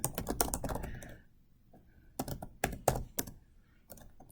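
Someone types on a computer keyboard at close range, entering a username and password. A quick burst of keystrokes is followed by a short pause, then more scattered, uneven taps.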